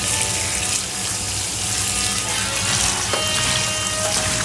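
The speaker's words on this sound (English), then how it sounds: "So first, I'll be washing this again before we put the salt and the drinking water." Cabbage for kimchi is washed under a running kitchen tap, a loud, steady rush of water splashing in a sink with small clinks and shifts as the leaves are handled, and no voices.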